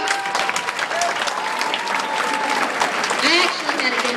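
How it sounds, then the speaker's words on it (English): An audience breaks into sustained, dense applause, with clapping filling the space and a few voices mixed in. "Anybody give a round of applause for Pepito?"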